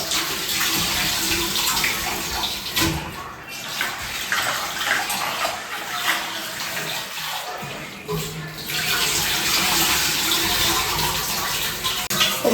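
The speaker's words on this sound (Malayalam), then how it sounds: "അപ്പോൾ ആദ്യം തന്നെ നമുക്ക് അരി നന്നായിട്ടൊന്ന് കഴുകി വൃത്തിയാക്കാം കേട്ടോ" Rice being washed in water for a Kerala Vishu sweet, a continuous splashing, running-water rush with brief lulls, close and fairly loud, no talking.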